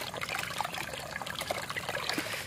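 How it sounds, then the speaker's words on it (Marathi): Stream water trickles and splashes softly and steadily as fish are washed in it outdoors on a rainy day, close and fairly quiet, with no voices. "तर इथेच धुया नॅचरल पाण्यात"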